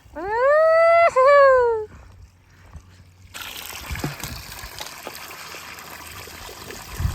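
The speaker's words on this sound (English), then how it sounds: "It's my first time filtering water." After a short whining tonal sound, water starts trickling steadily through a backpacking water filter on the Continental Divide Trail, a continuous soft splashing stream with occasional drips.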